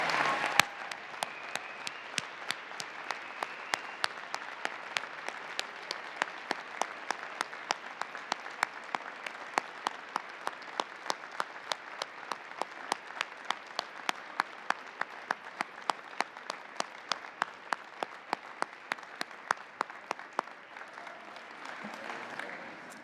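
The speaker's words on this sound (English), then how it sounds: "give a huge round of applause to the people who supported you through it all" A university convocation audience applauds for over twenty seconds, a steady roar of many hands with sharp individual claps standing out, moderately distant in a large hall and holding fairly even before easing at the end.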